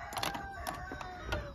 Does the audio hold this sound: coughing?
no